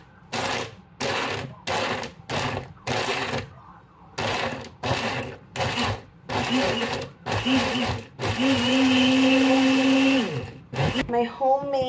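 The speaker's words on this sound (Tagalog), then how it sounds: "lagyan ko lang ng milk para lumambot siya. And then, pag i-blend ko muna siya." A kitchen blender crushes ice with milk in repeated loud, close pulses of roughly half a second each. A longer continuous run follows, with the grinding changing pitch as the mix loosens.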